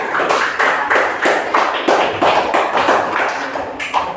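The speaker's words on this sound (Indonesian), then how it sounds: "Tepuk tangan untuk kelompok 2 anak" Children in a classroom clap for group 2, a quick run of roughly even, bright claps lasting several seconds and heard close up.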